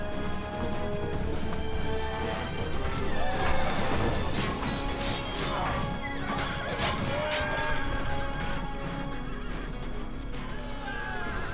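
Horses neigh and whinny loudly amid galloping hooves and clashing battle noise in the Rome: Total War strategy game, with cavalry and horse archers fighting; whinnies repeat across the dense, continuous din.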